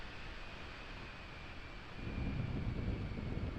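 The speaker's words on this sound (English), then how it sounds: "You hear the thunder." Thunder rolls in a flight simulator game flying the RealAir Turbine Duke V2, a low broadband rumble that swells about halfway through over a steady cockpit and engine drone.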